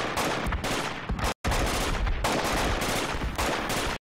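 Heavy gunfire in the military video game Project Reality, loud close bursts of automatic fire broken by brief pauses, with no voices.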